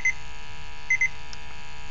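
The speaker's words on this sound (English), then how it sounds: "So now to exit, we're going to hit mode once. And you see it's going to alarm." RAE Systems MultiRAE Plus gas detector sounding its alarm on exiting calibration mode: three short, high, electronic beeps, one at the start and a quick pair near the middle, over a quiet background hum.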